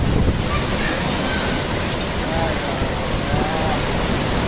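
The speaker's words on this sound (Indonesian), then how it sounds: "Anginnya kenceng banget." Strong storm wind roars continuously and loudly over the microphone in Jakarta, a dense buffeting rush with no letup.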